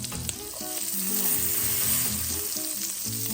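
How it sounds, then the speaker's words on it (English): Pork chops frying in a pan, a close, steady sizzle and crackle of hot oil lasting the whole stretch, with faint background tones beneath and no speech. "you'll want to let them cook for 2 to 3 minutes per side"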